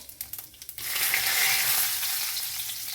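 Whole spices such as poppy seeds, fennel, cloves and bay leaf hit hot oil and break into a loud, steady sizzle after a few short scraping taps, with no talk.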